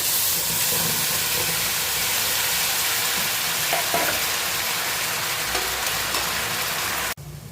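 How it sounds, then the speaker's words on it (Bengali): A ginger, garlic, chili and onion spice paste with garam masala fries in hot oil in a kadai. It makes a loud, continuous, close crackling sizzle with no talking, ending abruptly near the finish. "মশলাটা ভাজা হয়ে আসছে"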